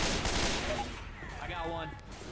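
Gunfire in the video game Left 4 Dead 2, a rapid fusillade of shots in a dense, loud burst over about two seconds, with game voices mixed in.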